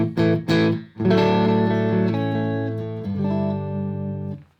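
A clean, dry electric guitar on the neck pickup with a warm, round tone plays a few plucked notes, then rings out sustained chords that slowly fade.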